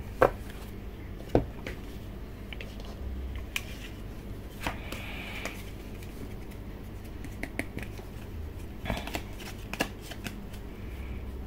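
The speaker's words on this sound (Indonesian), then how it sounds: "Kita akan buka 6 kartu di sini." Playing cards dealt one by one and flipped face up during a card game, crisp snapping flicks and soft slides close by over a constant low background hum.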